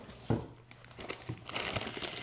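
A sealed plastic bag crinkles in irregular bursts, close by, as a woodworking plane is unpacked from heavy-duty cardboard, with a few sharper rustles toward the end and no talking.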